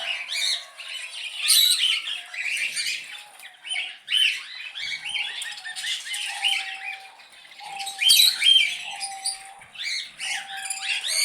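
A flock of parrots feeding outdoors on roti and millet, giving shrill overlapping squawks and chirps, moderately close and continuous with no one speaking.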